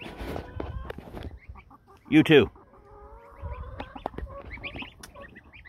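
Chickens cluck and squawk nearby, with one loud agitated burst in the middle as a hen wants in to lay an egg, while a person speaks briefly.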